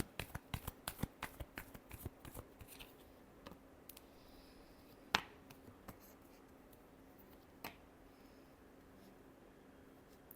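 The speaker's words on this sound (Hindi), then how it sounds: "Last shuffle." A deck of cards is shuffled close up, with a quick burst of riffling snaps at the start, then scattered soft taps and a few sharper single clicks over quiet room tone.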